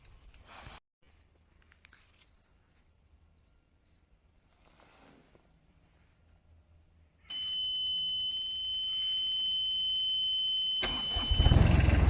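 A diesel mini digger engine cranks and starts, settling into a steady, loud idle with a high whine, following quiet clicks and a brief earlier thump; the engine revs harder near the end.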